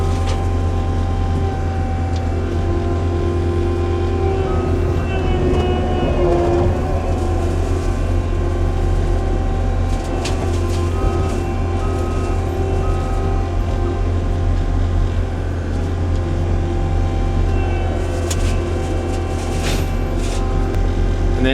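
The mulcher attachment on a CAT 265 track loader spins with a loud, steady mechanical drone that holds evenly from start to finish, with no talk.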